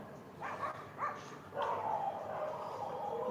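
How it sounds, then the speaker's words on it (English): Neighbourhood colony dogs bark a few times at a distance, two short barks followed by a longer drawn-out yelp or howl, faint against background hiss. "These are the dogs of our colony, protector of us,"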